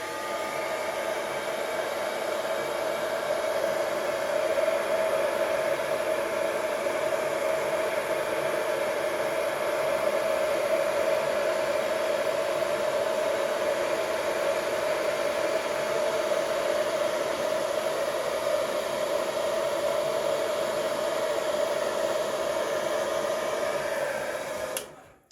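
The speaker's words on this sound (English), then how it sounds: "just gently slowly move the hairdryer outwards" A hair dryer blows acrylic paint across a canvas continuously at a steady pitch, a loud close whooshing hum that runs unchanged for the whole stretch before cutting off.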